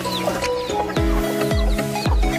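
Chickens cluck close by in a yard, with repeated short throaty clucks and calls overlapping, plus a few low thumps, steady and moderately loud with no talking.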